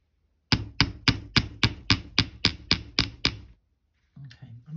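Metal hammer strikes wire ball ends against a steel bench block, eleven sharp, evenly spaced taps close up, followed by a pause and some faint handling.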